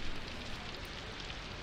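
Steady rain falls in a video game, a constant soft hiss of downpour running evenly throughout with no voices.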